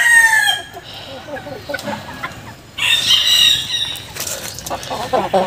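Bantam chickens in a pen cluck and crow close by, with a loud rooster crow, excited squawks and wing flapping. A voice talks at times under the birds.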